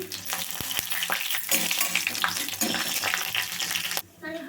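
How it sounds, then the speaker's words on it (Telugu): Cumin seeds and urad dal fry loudly in hot oil for sambar, a dense crackling sizzle with scraping stir strokes, then it cuts off abruptly near the end. "కొంచెం జీలకర్ర, మినపగుండ్లు ఇవన్నీ బాగా వేగాలి."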